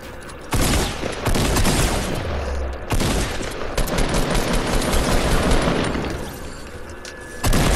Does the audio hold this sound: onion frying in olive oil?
no